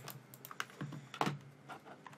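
Keys clatter on a computer keyboard during a Minecraft session, a burst of quick, uneven clicks with a few louder strikes, close and fairly quiet with no talking.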